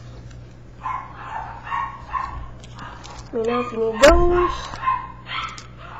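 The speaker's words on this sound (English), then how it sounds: "Sorry about the dogs barking." Several dogs bark and yip in short bursts, the loudest cluster coming midway, while someone speaks nearby over a low steady hum.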